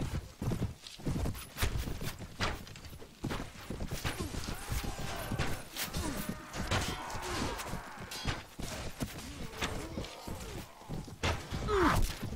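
Horse hooves pounding in the Mount & Blade Prophesy of Pendor mod, a steady, loud clip-clop rhythm of a mount in motion throughout, with thuds and a whinny over faint battle noise.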